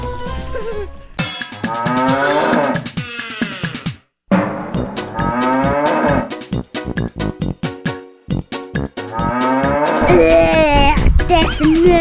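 A toy cow gives electronic, buzzy moos, several drawn-out calls in a row with short breaks between them, loud and close, with no talking.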